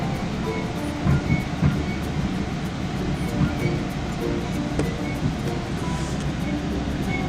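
Steady rumble of a moving GO Transit train in Ontario, heard aboard, with rhythmic clatter and rattling, constant and fairly loud throughout.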